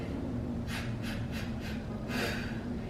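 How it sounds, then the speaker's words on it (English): A woman demonstrates labour breathing with a series of short, quick breaths, four or five brief huffs spaced about a third of a second apart, then a slightly longer one, close and clear over a low room hum. "Go like short breaths"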